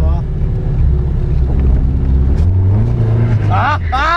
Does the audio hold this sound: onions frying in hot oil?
no